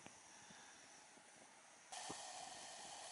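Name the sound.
sausages sizzling in a pan over a spirit burner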